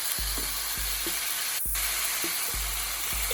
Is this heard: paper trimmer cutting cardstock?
no